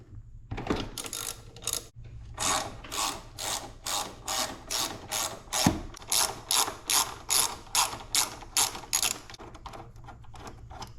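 A ratchet clicks in quick repeated strokes while loosening the front brake caliper bolts on a 2005 ZX10R motorcycle, with short pauses between bursts of close, crisp pawl ticking.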